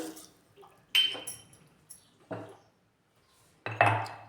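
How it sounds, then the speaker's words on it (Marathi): A metal spoon clinks against a bowl several times in short, separate taps as a spoonful of sugar goes into diluted yogurt, close and clear with quiet gaps between. "आणि टाकूया एक चमचा साखर"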